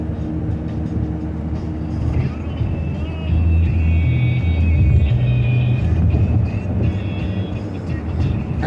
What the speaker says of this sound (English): there is so many cars again